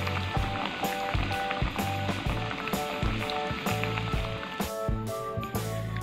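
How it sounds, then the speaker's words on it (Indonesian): Chicken pieces frying a second time in hot oil for a crispy fried chicken recipe, a continuous bubbling sizzle with scattered pops and clatters, with background music over it throughout. "Lalu goreng lagi ayamnya."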